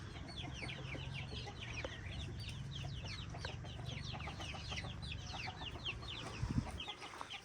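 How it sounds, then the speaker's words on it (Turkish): Sussex chickens clucking and chattering continuously, several birds at once, with a low steady hum underneath and a brief bump near the end. "süfleks tavuklarımız"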